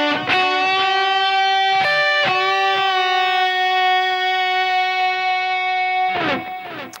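Electric guitar with distortion plays a phrase from a song, a few picked notes followed by a long sustained, bent note that rings loud and close before a final flurry.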